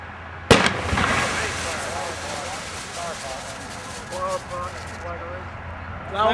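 A flower pot firework fired during a fireworks shooter course goes off with one sharp loud burst, followed by a sustained crackling, hissing spray that fades over several seconds, with voices talking faintly underneath.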